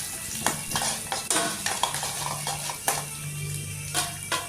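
Ingredients for coriander chutney are sautéed and stirred in a pan, with a spoon scraping and clinking against the metal in irregular strokes over a soft, steady sizzle, close up and without speech.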